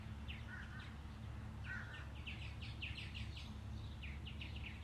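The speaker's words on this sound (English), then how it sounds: "These birds out here are amazing." Birds chirp outdoors in scattered bright trills and short call clusters, moderately distant, over a low steady outdoor hum with no talking.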